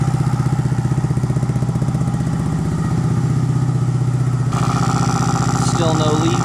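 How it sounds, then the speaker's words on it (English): A Honda Monkey motorcycle engine idles slightly high during its heat-up cycle, a loud, close, steady rhythmic putter that shifts tone briefly near the end. "This is the heat up cycle, so the RPMs are a little loud, a little high just because of it"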